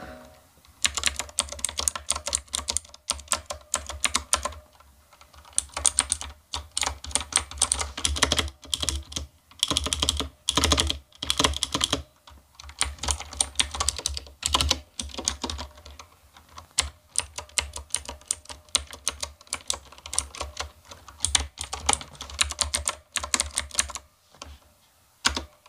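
Fast, continuous typing on a mechanical keyboard with blue switches, crisp clicky keystrokes in uneven bursts with brief pauses, close and clear with no voices.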